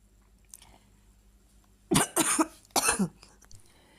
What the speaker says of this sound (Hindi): और खांसी इतनी ज़्यादा आ रही है